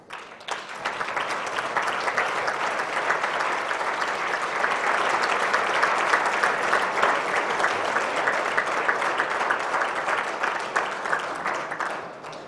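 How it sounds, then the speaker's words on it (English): Audience applause at the OSCE Parliamentary Assembly autumn meeting session in Armenia, a full, steady clapping from a large room that rises quickly and holds for about twelve seconds before tapering off. "Let's give them a round of applause."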